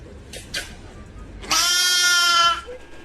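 A goat gives one loud, sustained bleat of about a second, close by and strongly harmonic, preceded by a couple of short faint sounds against a quiet background.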